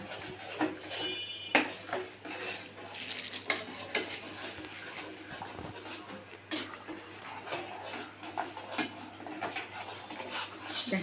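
A spoon stirs vegetable noodle soup seasoned with tomato noodle spice mix in a metal pot, giving repeated clinks and scrapes against the pot over a steady low hum, close and fairly faint.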